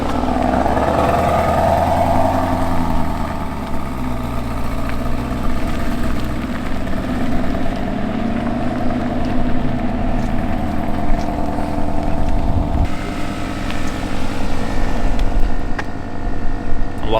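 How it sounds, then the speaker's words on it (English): An Aston Martin with a sports exhaust idles and burbles nearby, a deep steady engine rumble with slight revving throughout, loud and close with no talk. "if you can't tell by the sound, we opted for the sports exhaust this time"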